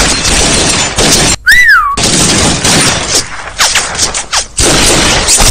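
Gunfire bursts crack repeatedly through a loud, dense mix of dubbed action-film effects, with a brief whistling tone cutting in partway.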